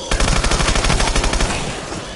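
A rapid, loud burst of automatic gunfire from a video game, close and dense, firing evenly for about a second and a half before tailing off into echo.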